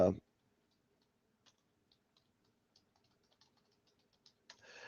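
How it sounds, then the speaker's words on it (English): Soft, quiet keystrokes on a computer keyboard tap out a sparse, irregular rhythm, ending in a brief burst of rustling. "I'll type it up right here"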